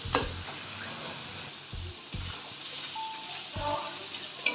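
Chopped capsicum and onions sizzle in a pan for pav bhaji while a spatula stirs them, several soft knocks against the pan breaking through a constant low frying hiss, close and fairly quiet.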